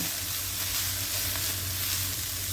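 Onions fry in a pan ahead of baking into homemade cheeseburger buns, a close, continuous, even sizzle with no one talking.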